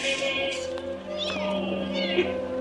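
A cat meows several times, drawn-out and fairly close, over a steady tonal hum in the background.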